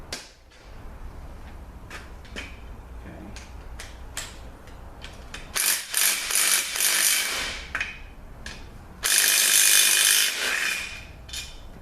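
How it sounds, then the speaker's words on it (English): A ratchet with a 15 swivel socket works the bolts off a 4L60E transmission extension housing, giving scattered clicks and scrapes and then two louder bursts of rapid ratcheting, close up. "let's see if we can get this extension housing off now. I got to use a 15 swivel."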